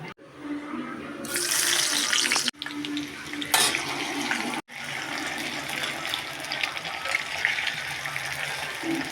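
Coconut oil heats in a pan in a home kitchen, giving a steady close hiss and bubbling crackle with brief breaks, and a soft voice murmurs at times.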